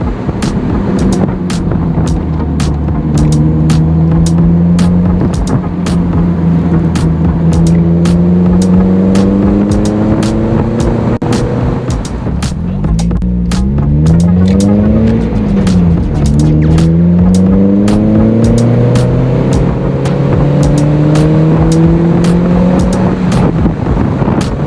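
Mazda Miata driving around town, heard from inside with a loud, continuous engine drone that rises in pitch through repeated accelerations and gear shifts, with steady road noise throughout.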